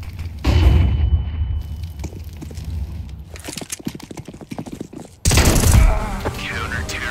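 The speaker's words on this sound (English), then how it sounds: "Deploying flashbang." A Counter-Strike 2 flashbang grenade detonates with a sudden loud bang, followed by a ringing tone, scattered gunshots, and another sharp burst near the end, with game voices in the background.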